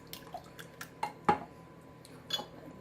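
Eggs and vanilla being mixed by hand in a bowl, heard as quiet, irregular clinks and taps of a utensil against the bowl, close but soft, with no one talking.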